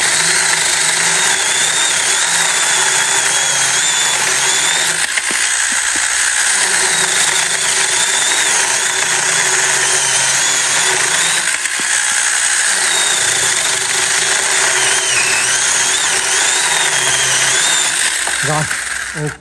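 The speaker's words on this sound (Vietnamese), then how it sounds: "em cưa cái cây cho anh em xem thử luôn nha" Loud, steady whine of a power saw running close by, with several dips where the blade bites into a wooden log, punctuated by brief clicks.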